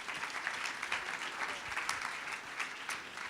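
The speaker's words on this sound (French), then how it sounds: "Qu'on les applaudit bien fort" A seated audience at an award ceremony claps steadily throughout, dense and even applause heard from within the room.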